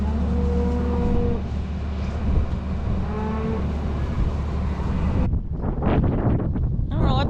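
East wind buffets an outdoor microphone on a snowy yard, a steady loud rush and rumble with a low engine-like drone beneath, cutting off abruptly before brief thumps and noises near the end.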